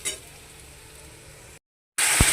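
Onion paste sizzling as it fries in a small amount of oil, with a steady hiss, a short silent break, then a louder burst of sizzling and a faint clink near the end.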